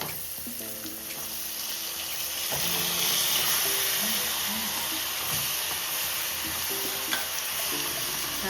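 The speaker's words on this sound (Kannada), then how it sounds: "ಈಗ ನಾನು ಮಾವಿನ ಹಣ್ಣು ಮ್ಯಾರಿನೇಟ್ ಮಾಡಿ ಇಟ್ಕೊಂಡಂತಹ ಹಣ್ಣನ್ನು ಹಾಕ್ತಾ ಇದ್ದೇನೆ" Marinated mango pieces with the peel left on go into a hot pan for a Coorg-style mango gravy: a steady, loud sizzle fills the clip, broken by stirring scrapes and utensil knocks, with no talking.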